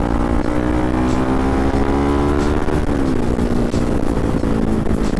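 A CFMoto NK400 motorcycle engine revs loud and close, its steady drone climbing in pitch as the bike accelerates hard, with no talking over it.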